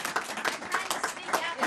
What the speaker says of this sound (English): let's give Senator Shaheen a big round of applause